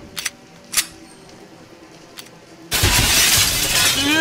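Glass shattering in the video game Receiver 2: a few sharp clicks and taps come first, then a sudden loud burst of breaking glass that crashes and rings on to the end.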